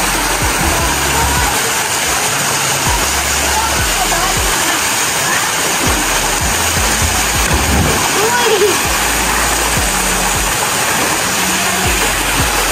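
River water rushes and splashes continuously in an outdoor setting in Zambales, a loud steady wash with low rumbling underneath and voices faintly mixed in.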